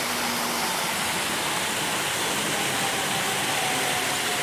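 A waterfall beside a fishing pond gives off a steady, close rushing roar of falling water that stays even throughout, with no voices over it.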